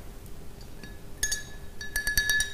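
A spoon stirring iodine-tinted water in a drinking glass, giving sharp bright clinks that start sparse and grow into a quick irregular cluster near the end, close and clear over a quiet room.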